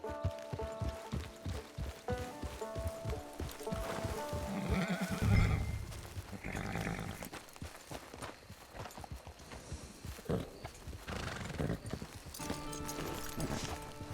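In Red Dead Online, hooves clip-clop steadily while a horse gives a loud whinny partway through, all set against a continuous musical backdrop.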